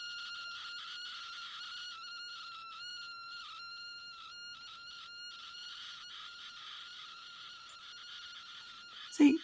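Audio continuity tester on dodgy prototyping equipment sounding a steady high electronic tone that warbles and breaks intermittently, with a brief louder click near the end.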